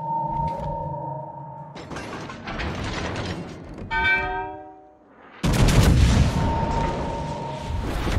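Heavy naval gunfire from the battleship Missouri in World of Broadside, a loud broadband blast bursting in after a stretch of mechanical whirring and tonal game effects, the roar sustaining to the end.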